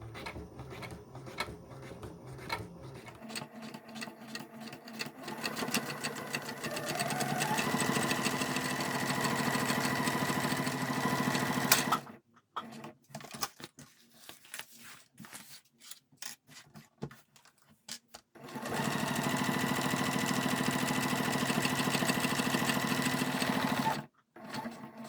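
A sewing machine stitches slowly over velcro, running in steady rhythmic bursts with stretches of quiet stops and short starts between them, fairly close and alone without voices.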